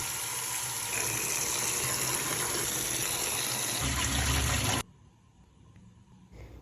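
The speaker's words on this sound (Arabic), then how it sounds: "رح اصفي المي عنه واكب له مي باردة لحتى يبرد ويوقف عملية الاستواء" Water gushing loudly and steadily while boiled eggplants are drained and doused with cold water in a kitchen, ending abruptly into near quiet with a faint trickle.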